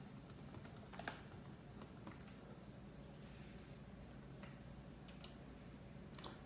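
Password typed on a laptop keyboard, quiet close key clicks in uneven bursts with pauses, over faint room noise and no talk.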